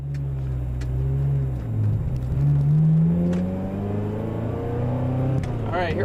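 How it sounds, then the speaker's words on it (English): A 1995 Ferrari F355 Berlinetta engine hums steadily, then rises in pitch as the car accelerates away on a sunny day, close and continuous inside the cabin with a brief pitch climb near the end. "Alright, here we go in the 355, out for a little drive on a sunny day."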